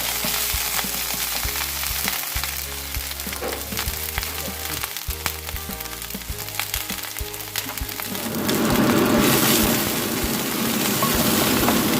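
Red curry paste stir-frying in a pan for a Thai catfish curry, a steady dense sizzle through the whole stretch, rising louder and more crackly near the end, no talking.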